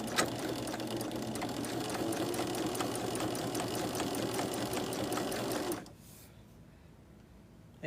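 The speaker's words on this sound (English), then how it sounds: "I should just be able to put it right under my machine and stitch" A sewing machine stitches through pieced quilt blocks in one steady, close run of rapid needle strokes, stopping abruptly near the end and leaving quiet room tone.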